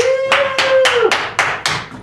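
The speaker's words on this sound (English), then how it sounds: "We have to do our own clapping because we don't have an audience." Two late-night talk show hosts clap their own hands in an empty studio: six or seven sharp, evenly spaced claps, close and loud, with a brief whoop over the first one.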